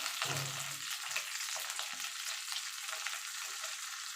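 Ginger sizzles in a pan as a splash of water hits it, giving a brief burst followed by a steady, bright frying hiss with light stirring scrapes throughout.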